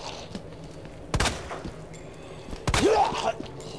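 Gunshots in Resident Evil 2 Remake: two sharp, loud shots about a second and a half apart, each with a ringing tail, over faint game ambience.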